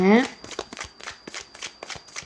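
Oracle cards shuffled by hand in a steady series of quick riffling flicks, close and fairly loud, following a brief spoken sound at the start.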